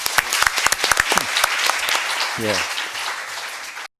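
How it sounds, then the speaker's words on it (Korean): Audience applause at a university town meeting, a burst of sharp individual claps that swells into full, steady clapping and then cuts off abruptly, with a man's brief word over it. "박수 부탁합니다."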